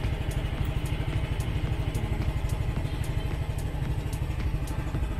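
A motorcycle engine, just started after recharging its weak battery with a smart charger, idles steadily with a rapid even chug and faint clatter, close and continuous without talk.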